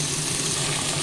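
Pumpkin, radish and potato pieces frying in hot oil in a pan, giving a steady, dense sizzle throughout with no pauses and no voices.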